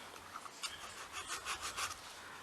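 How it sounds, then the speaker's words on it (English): A nail file lightly buffing the top of a fingernail during nail art, giving a soft, close rasping rub in quick back-and-forth strokes with no talking. "other file and lightly buff on top"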